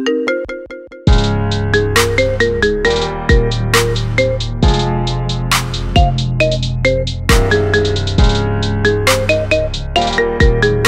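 A marimba remix of a song plays as an iPhone ringtone: after a second of quiet plucked notes, a loud melodic marimba line comes in over steady, punchy bass beats.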